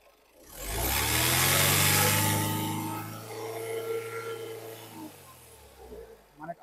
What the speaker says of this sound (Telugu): ఇంజన్ కూడా బీటింగ్ కూడా చాలా సైలెంట్ బీటింగ్ ఉంది